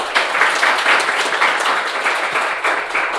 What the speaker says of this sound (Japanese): 皆さんの盛大な拍手をお願いします